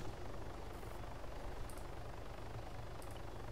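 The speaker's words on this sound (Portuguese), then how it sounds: "Eu tô embaixo do helicóptero." Helicopter in the video game Arma 3, Altis Life mode, with a steady low rotor thump and engine drone holding close and loud throughout, no break in the sound.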